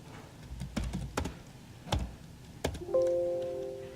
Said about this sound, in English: Now we're able to hit the arrow keys as quickly as we want with no penalty.